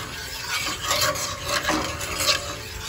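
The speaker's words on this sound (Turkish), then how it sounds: "tuzunu attıktan sonra bir karıştırdım" A spoon stirring water, vinegar, oil and rock salt in a pot for pepper pickles, a close continuous swishing and scraping with faint clinks against the pot, no talking.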